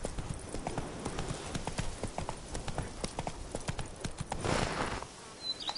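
Roach, the horse in The Witcher, trots in a video game with a quick, even clip-clop of hooves that carries on for about five seconds. The hoofbeats are clear and fairly close, then fade out near the end.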